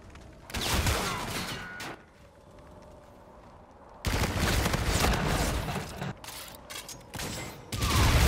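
Bursts of gunfire from a video game gunfight, with dense, loud volleys around the middle and end and a quieter lull between them, all with no talking.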